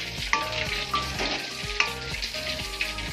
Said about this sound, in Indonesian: Biarkan dia mendidih.